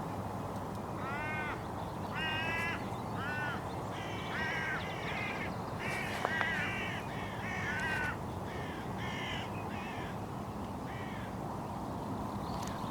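Hooded crows caw repeatedly on a hilltop, harsh calls in short bursts of two to four spread across the whole stretch, moderately distant over a steady windy background hiss.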